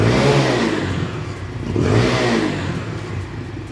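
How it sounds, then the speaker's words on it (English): A cheap super sport motorcycle bought at Wal-Mart, fitted with a full-size muffler, revs in neutral, its engine rising and falling in two loud surges with a buzzing, clattery tone up close. "it is in neutral, but it revved up a little faster than I thought it would"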